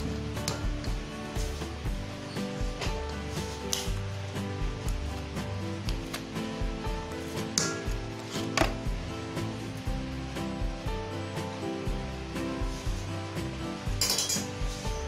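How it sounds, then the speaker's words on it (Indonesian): Black sticky rice brownie batter being stirred in a bowl, with repeated scraping and soft clinks of a utensil against the container over a steady background hum, no talking. "Kita aduk dulu di sini."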